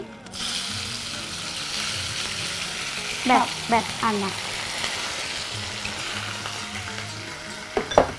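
Tomatoes drop into hot oil and fry with a loud, steady sizzle close by. A short burst of clattering stirs comes mid-way and again near the end.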